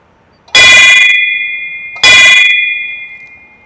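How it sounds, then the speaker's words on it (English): A bell outside an ice shop on Holden Beach is struck twice, each a loud, close, bright clang that rings on and slowly fades, the second strike coming about a second and a half after the first. "It says ring the bell twice if you like the ice."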